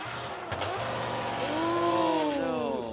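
The engine of drift car number 330, a Team M2 Racing chaser, is heard at Ebisu, Japan, with a voice talking over it. The engine note holds, then sweeps up and sags in long wavering whines as the car pops out of gear.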